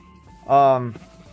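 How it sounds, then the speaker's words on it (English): A sheep bleats once in Minecraft, a single short, close harmonic baa standing out clearly against a quiet background. "So I did take the sheep out of the horse pen and plop them in here."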